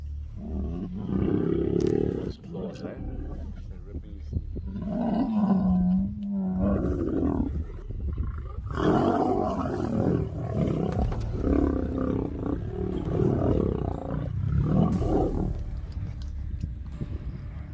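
A three-legged African lion roars repeatedly in open grassland, deep rumbling calls rising and falling over a steady background for most of the stretch, loud and fairly close.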